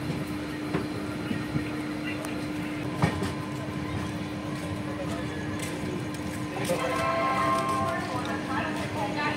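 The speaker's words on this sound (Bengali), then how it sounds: "ট্রেন তার চতুর্থ অফিসিয়াল হল্ট মাইবাং স্টেশনে এসে পৌঁছল" A passenger train on the Guwahati to Agartala route rolls into Maibang station, with a low steady rumble, sharp wheel clacks and a brief rise in grinding noise near the end, while voices murmur in the background.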